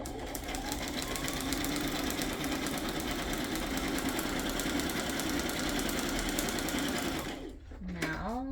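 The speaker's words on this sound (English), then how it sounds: "Now I am going to sew this together also." Sewing machine stitching paper pockets made from book pages and music sheets, a steady fast mechanical whir running loud and close for about seven seconds before stopping.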